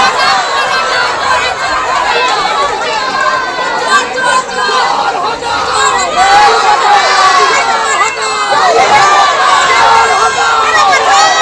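A crowd in the 25th ward of Rajpur Sonarpur municipality shouts 'thief' slogans at a Trinamool councillor, a loud, dense mass of raised voices and chanting with overlapping shouts throughout.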